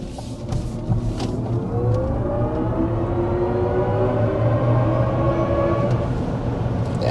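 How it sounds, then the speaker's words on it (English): A 2024 Chevy Blazer EV accelerating through a corner gives a rising electric whine and steady road and tire rumble from inside the cabin, loud and continuous with no talking. "we'll get another acceleration here as I make this corner"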